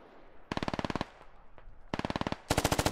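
Bursts of MP5 submachine gun fire in the tactical shooter SquadOps come in three rapid automatic volleys, sharp and close, separated by short pauses.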